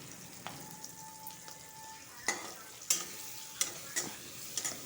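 Onions and garlic frying in a pan with a soft steady sizzle, broken by a few sharp clicks and scrapes of stirring, close up and without voices.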